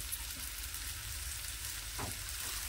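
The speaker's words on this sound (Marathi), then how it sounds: "हे परतून घ्यायचे" Spiced jackfruit being stir-fried in a pan with freshly ground masala paste, giving a steady close sizzle and frying hiss throughout, with a brief scrape of stirring near the end and no talking.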